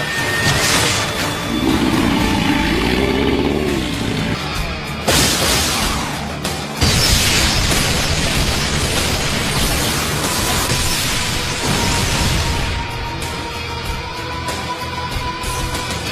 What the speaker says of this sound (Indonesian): Monster berekor atau Jinjuriki yang telah berubah wujud menembakkan beberapa bola monster berekor yang tidak terkompresi secara beruntun ke arah sasaran